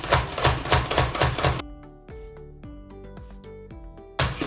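Onions and green and red peppers being chopped on a board for beef lasagne, with rapid repeated knife strikes at the start and end and slower, separate chops in between.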